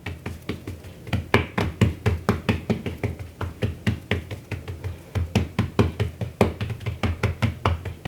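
Hands steadily pat gluten-free biscuit dough flat on a floured surface, a long run of quick soft slaps in an even rhythm, close up.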